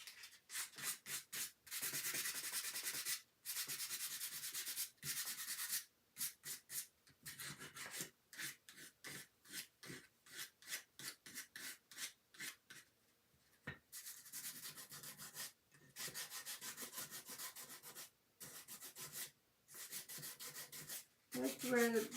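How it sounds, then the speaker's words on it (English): Repeated rhythmic sanding strokes rubbing over a chalk-painted wooden surface to distress the middle section and the ends, loud and close, with brief pauses between passes and no talking. "Okay, I'm gonna sand."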